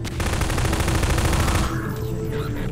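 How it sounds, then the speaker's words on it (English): Rapid automatic weapon fire in the video game Half-Life 2: Episode Two, a loud, continuous burst of close shots lasting under two seconds before cutting off into quieter game ambience. "I want to shoot a hunter with one of these combined ball launchers."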